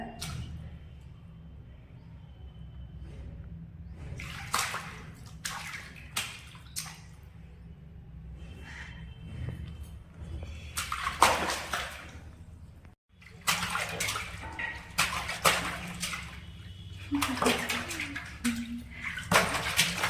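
Water splashing and sloshing as a small child bathes, intermittent close splashes and drips in a bathroom, with an adult's voice speaking at times.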